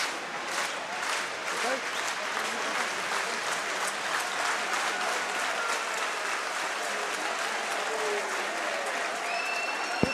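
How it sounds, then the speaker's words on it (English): Dense, steady clapping from a large French rugby crowd in a stadium, sustained at a distance for a kicker at an under-20 New Zealand versus Australia match, with faint whistles near the end. "When the French crowd clap their hands, it's not a case of them being impatient."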